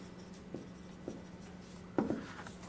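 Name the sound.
writing a formula by hand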